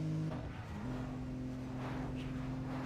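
Ford Mondeo engine from Need for Speed: Pro Street, a front-wheel-drive car modeled on a V6, drones steadily with a clear tonal hum whose pitch steps up early on and then holds, loud and close.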